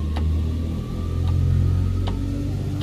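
Twin radial piston engines of a DC-3 airliner in Microsoft Flight Simulator 2020 build power against held brakes, a steady loud low drone with throbbing harmonics that swells slightly and holds, no talking.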